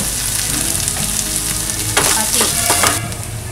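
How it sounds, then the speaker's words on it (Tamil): Onion and masala sauté loudly in a pan for a spicy prawn roast, a dense continuous sizzle broken by a few scraping stirs near the end, with no voices. "ஒரு பெரிய வெங்காயம், இது எல்லாத்தையும் சேர்த்து நல்லா வதக்கிக்கலாம்"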